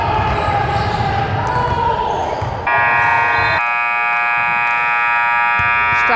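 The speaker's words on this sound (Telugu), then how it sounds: "బజర్ మోగింది." A loud, sustained electronic buzzer sounds at a basketball game, steady and piercing over crowd noise and bouncing balls in a gym, then cuts off partway through.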